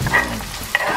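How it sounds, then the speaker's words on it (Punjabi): Chopped onion dropped into hot oil for a restaurant-style veg Manchurian gives a brief, close sizzle and hiss with a light stirring scrape, with no voices. "ਹੁਣ ਆਪਾਂ ਇਹਦੇ ਵਿੱਚ ਪਾਵਾਂਗੇ ਪਿਆਜ਼ ਜਿਹੜੀ ਕੱਟਿਆ ਹੋਇਆ"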